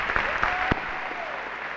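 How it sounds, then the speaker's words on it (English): An audience gives a round of applause for King Peggy, steady dense clapping with a few sharper individual claps near the start, fairly close and without talk over it. "If you can get one more round of applause for King Peggy."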